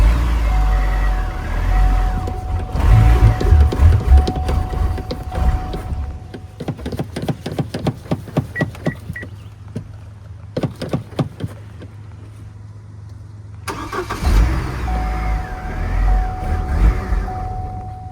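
A Hummer H3 engine cranks over in two runs of rhythmic, evenly spaced bursts with a short gap between them, then catches and settles into a steady running rumble, close and fairly loud.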